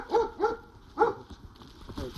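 A dog barks at pigeons with three sharp barks, two close together and a third after a short pause, followed by fainter low sounds.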